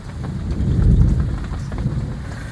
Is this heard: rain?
yes